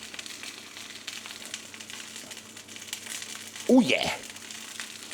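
Gold award-winning pork sausages browning in a pan, a soft low sizzle with a brief crackling burst, under quiet talk.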